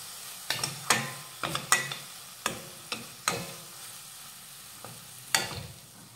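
Spice masala thinned with a little water being stirred and sautéed in a pan for traditional bhogi bhaji, a soft scraping and clattering of the spoon in repeated strokes over a faint low sizzle.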